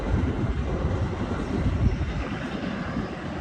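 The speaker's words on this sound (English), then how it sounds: "Oh, that was the train I was talking about, yeah." Passing train heard as a steady, loud low rumble and roar close by, with no talk over it.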